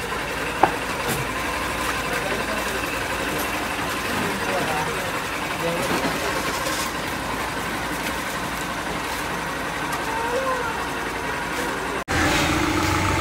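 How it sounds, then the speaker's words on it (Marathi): A tempo goods vehicle idling, a steady low engine rumble that runs under voices of people talking nearby, with a brief knock partway through. "चला आता टेम्पो आलाय"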